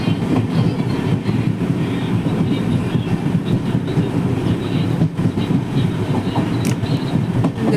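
The Thiruvananthapuram weekly express runs at high speed with a loud, continuous rail roar and a dense rhythmic clatter of wheels that stays close and constant throughout.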